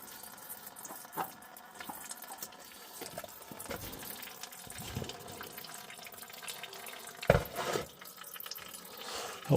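Engine oil drains from a Duramax pickup truck into a bucket with a soft, steady trickle and patter of liquid. Faint clunks and handling noises sit over it, and there is no speech.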